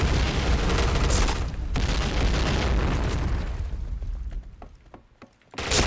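A grenade blast in a video game, a loud rumbling boom that fills the first seconds and slowly decays, ending in a brief drop to near silence before another burst starts.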